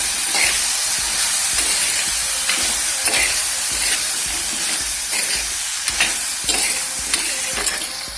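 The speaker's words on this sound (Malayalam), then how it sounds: "മുരിങ്ങയ്ക്ക, ഉരുളക്കിഴങ്ങ്, തക്കാളി. ഇത് നന്നായിട്ടൊന്ന് വഴറ്റിയെടുക്കാം." Drumstick, potato and tomato sautéing in a pan, a continuous crackling sizzle with repeated scraping stir strokes at a steady pace, close and fairly loud.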